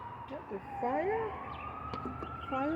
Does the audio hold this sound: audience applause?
no